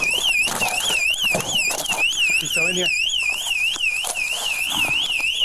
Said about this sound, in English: See, there's the alarm going off.